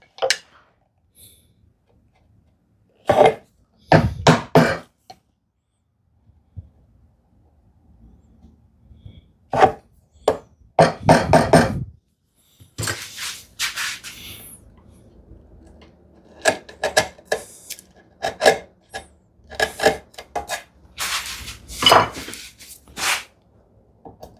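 A chisel paring wood while making a desktop organizer: bursts of scraping and crisp cuts with clicks and knocks, separated by quiet gaps, close and fairly loud.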